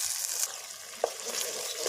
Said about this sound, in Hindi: इसको भी हम 2 से 3 मिनट भूनेंगे ताकि हमारे चिकन छोले का ज़बरदस्त या टेस्ट बने